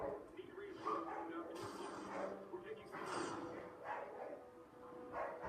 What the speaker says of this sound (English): hear a dog barking in the background